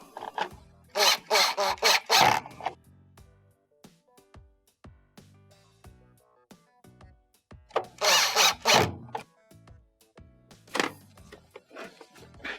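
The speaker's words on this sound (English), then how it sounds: "Next, install your first screw. Followed by the other 2." A power drill drives screws into a Frigidaire washer in two loud bursts of whirring, first one screw and then another, with quiet clicks and handling noise between them.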